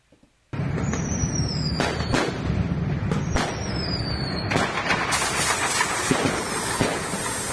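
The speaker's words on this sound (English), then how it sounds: "You hear the clack, clack, clack, and then right after you hear the psh," Sky Dragon roller coaster at Splendid World Fantasy Land, a loud outdoor mix of irregular sharp clacks and bursts with hissing releases over steady wind noise.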